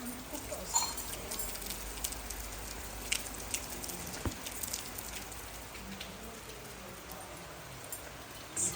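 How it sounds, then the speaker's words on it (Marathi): Heavy rain falls outside in a Konkan village, a steady, even hiss of drops on surfaces that carries on throughout, with a few brief knocks nearby. "बाहेर खूप पाऊस पडतोय आहे"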